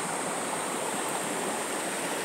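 A river stream flows steadily nearby at a riverside washing spot, a dense, constant rushing of water with no pauses.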